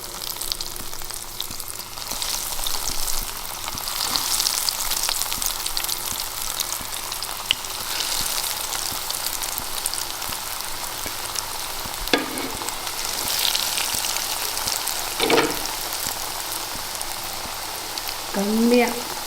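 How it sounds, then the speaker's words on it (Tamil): Vegetable cutlets fry in a small amount of ghee over a low flame, a dense, continuous sizzle with scattered crackles and a few brief scraping sounds near the end. "கட்லெட் வறுக்கிறதுக்கு கொஞ்சமாக நெய் ஊற்றி வறுத்துக்கலாம்."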